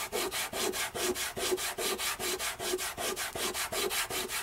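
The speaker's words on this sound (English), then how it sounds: "Brush it off and burnish with your finger." Quick rhythmic rubbing strokes close up, about four per second and evenly paced, as loose glitter is brushed off an embossed card and burnished down with a fingertip.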